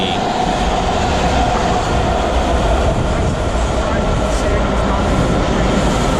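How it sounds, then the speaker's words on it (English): A WMATA Kawasaki 7000-series subway train, car 7072, on the Orange Line at Metro Center lower level roars steadily nearby, a dense continuous rumble of wheels and motors with faint rattling, filling the whole stretch without letup. "Orange Line train to Vienna, arriving at Metro Center, lower level"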